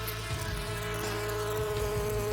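Bees buzzing in an animated riddle scene, a steady droning insect hum with a low pulsing tone that holds evenly and fairly loud throughout, with no voices over it.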